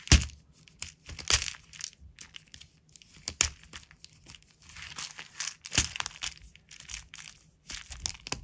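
Crinkly plastic packaging is crushed, crumpled and torn open at close range, an irregular run of sharp crackling bursts separated by brief lulls, with no voices.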